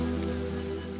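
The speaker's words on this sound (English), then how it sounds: "The rain is a welcome relief" Steady rain patters down in a continuous wash, with a low constant hum underneath and no voices.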